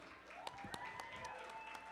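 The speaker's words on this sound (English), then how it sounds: "Come on, let's clap it up for them." Audience applause at an EXTRAordinary Women reception event, a steady patter of clapping from a moderate crowd with a few sharper individual claps, continuing throughout without speech.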